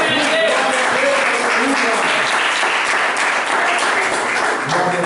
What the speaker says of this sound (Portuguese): Dá uma salva de palmas para Deus.